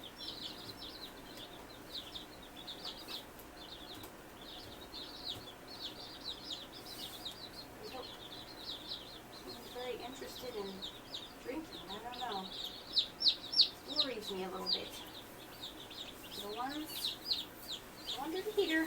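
Newly arrived baby chicks under a heater give a steady stream of high, soft peeping, with some lower clucking sounds and a person talking gently over them.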